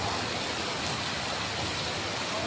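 Heavy rain pours down at night in Mumbai: a dense, steady hiss of downpour that holds at an even level throughout, with no voices heard.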